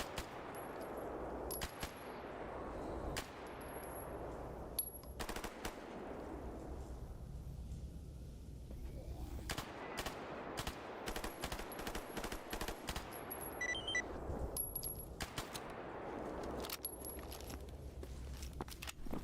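Bursts of gunfire in the video game RE:DONE GAMMA, sharp repeated cracks and rapid volleys spread across a fight, mid-distance with footsteps and clatter between shots.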